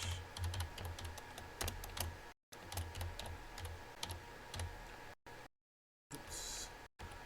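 Someone types on a computer keyboard while writing C++ code, producing a close, rapid clatter of keystrokes with brief breaks and pauses.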